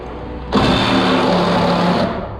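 A Sawzall reciprocating saw cuts through nails inside a wall during bathroom remodeling, a loud, close, steady buzzing whine that starts abruptly and runs for about a second and a half before easing off.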